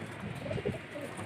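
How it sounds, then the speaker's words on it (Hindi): A captured pigeon coos softly and close by, its low murmuring notes rising in a few brief swells over a faint background hiss. No one speaks. "तो माशाल्लाह बहुत प्यारा कबूतर है, हमने पकड़ा है।"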